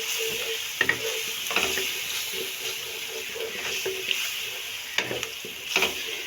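Yogurt is stirred into chicken macaroni in a pan over a low flame, a spoon scraping and clinking in an uneven rhythm over a soft, steady sizzle.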